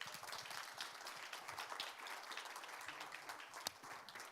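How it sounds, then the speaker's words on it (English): Conference audience applauding steadily throughout, a dense even wash of many hands clapping at moderate volume with no voices over it. "please another round of applause"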